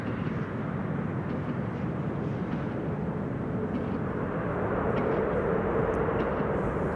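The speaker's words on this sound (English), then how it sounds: "And that's the reversers being applied" A landing airliner at Amsterdam Schiphol roars with a broad, steady rumble as its thrust reversers are applied, heard from a distance and swelling slightly toward the end.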